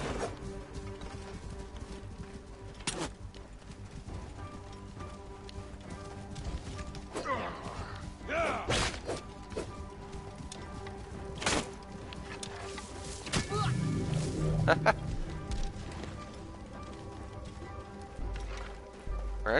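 Horse hooves clatter and gallop in Assassin's Creed Origins, with repeated clip-clop hits, a neigh and sharp combat thwacks during a fight against riders on horseback, and a commentator talks over the action.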